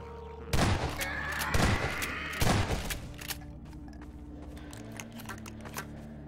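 Sniper gunfire in the video game Half-Life 2, three loud sharp shots about a second apart, each followed by a short echoing tail, then quieter game ambience.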